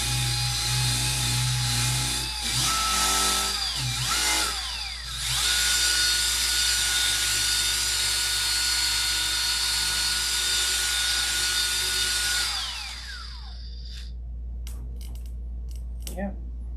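A surface being sanded with 5000 grit using a power sander, a loud, steady mechanical whine running for several seconds after a few short starts, then cutting off into scattered taps and faint speech.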